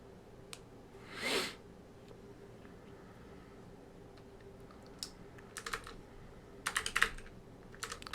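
Kotlin code being typed on a computer keyboard: sparse clusters of crisp key clicks separated by quiet pauses, with a soft rustle early on and a denser flurry of keystrokes near the end.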